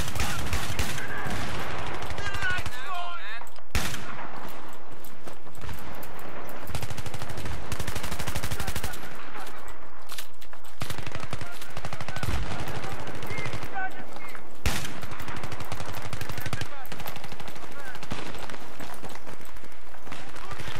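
Heavy automatic gunfire and scattered shots rattle almost nonstop through a 32-versus-32 multiplayer shooter battle, loud and dense, with voices talking over the chaos.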